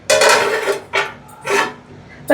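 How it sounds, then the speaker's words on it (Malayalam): A metal lid clatters onto a cooking pot of fish head curry, giving three quick bright scraping clanks one after another, loud and close. "വീണ്ടും പാത്രം ഒന്ന് അടച്ചിടാം."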